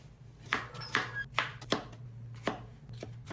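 Knife chopping tomato into small pieces on a cutting board, a handful of crisp, close taps at an uneven pace over a low steady hum.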